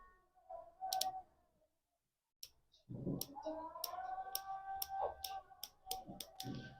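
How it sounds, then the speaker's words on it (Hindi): Turret clicks from a SenterArms Reaper F1 6-24x50 SFIR FFP zero-stop riflescope: a quiet, close series of crisp, individual clicks, spaced unevenly, over a soft tonal background after a brief pause. "इसकी जो टर्रेट्स की आवाज है ना जनाब वो बहुत मजे की, आप यहाँ पर देख सकते हो।"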